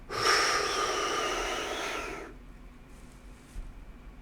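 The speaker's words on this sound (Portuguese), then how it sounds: "eu tenho que ensinar que ele tem que inalar lento e contínuo, mais ou menos 5 segundos inspirando." Slow, continuous inhalation drawn through an asthma inhaler forms a loud, steady breathy rush with a faint whistling edge lasting about two seconds, then cuts off to near quiet.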